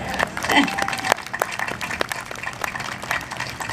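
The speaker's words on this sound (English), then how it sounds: "So I think they deserve a round of applause." A crowd at a civic Fourth of July program applauds, scattered moderate clapping with distinct individual claps mixed with brief voices and chatter in the room.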